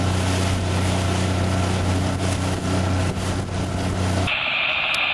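A McGregor 26X sailboat motors fast on a river, its outboard engine a loud, steady, close drone with constant hum, ending abruptly in a sharp cut to a different high tone.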